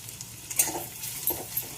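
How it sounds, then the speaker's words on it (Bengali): A handful of onions sizzle softly in hot oil, stirred with a utensil that gives faint scraping taps, close and without voices. "এবার এটা একটু ভাজা ভাজা করবো।"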